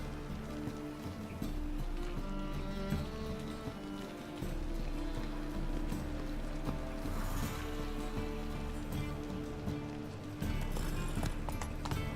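Horse galloping in The Witcher 3, rhythmic hoofbeats thudding steadily over a droning game soundscape, moderately loud, with no talk.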